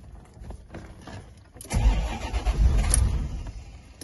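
A barn-find Corvette C4 ZR-1 cranks but fails to start: quiet ticking at first, then the starter churns loudly for a couple of seconds without the engine catching.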